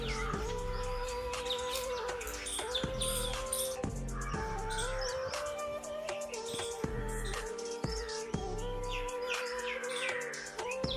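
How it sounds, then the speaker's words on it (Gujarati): Birds call steadily near the seaside Mastram Dhara Hanuman temple in Gujarat, a dense, continuous chorus of chirps and clucking calls with no talk. "પક્ષીઓનો અવાજ પણ થઈ રહ્યો છે"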